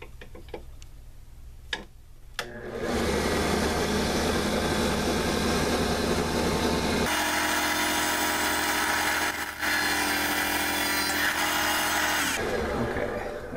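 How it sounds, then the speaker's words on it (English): A drill press bores an angled hole into a knife handle, a steady loud whirring grind that starts after a few clicks and runs continuously with a brief dip partway through. "Now I'm going to drill the other side. And it has to be at an angle too."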